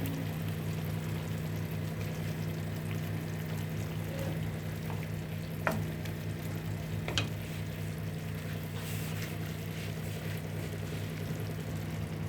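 Capsicum and coriander are stirred into a frying parwal and chana dal sabzi in a pan, giving a faint, steady sizzle with a couple of brief spoon clinks and no talking.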